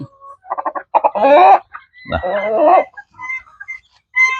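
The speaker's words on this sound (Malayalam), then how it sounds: "ആ കൂവല് അത്ര അങ്ങനത്തെ സൗണ്ടിലാണ് കൂവുക" A Brahma rooster crows loudly and close by in two long harmonic calls, followed by a few softer clucks and short chirps.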